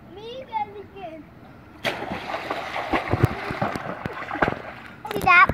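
A child jumps into a backyard swimming pool, landing with a loud splash and churning water that continues for a few seconds, with a voice chattering before the jump and cries over the splashing.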